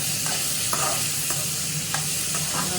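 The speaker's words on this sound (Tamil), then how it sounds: "கிட்டத்தட்ட ஒரு இருபது வெங்காயம் போட்டிருக்கேன் போட்டால் தான் நல்லா இருக்கும் சின்ன வெங்காயம் தான் நல்லா இருக்கும்" About twenty chopped small onions fry in hot oil for a Tamil mutton kulambu, with a steady close sizzle and soft stirring scrapes every half second or so. No one speaks.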